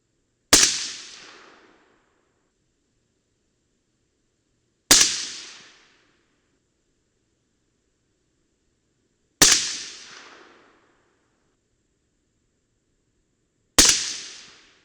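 Four sharp, loud rifle shots from a Mk262 clone firing handloaded ammunition, spaced roughly four to five seconds apart, each a crisp crack with a short decaying tail and silence between.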